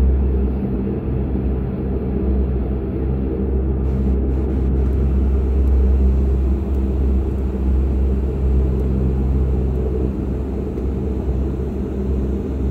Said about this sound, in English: This propeller creating a small snow tornado on the ground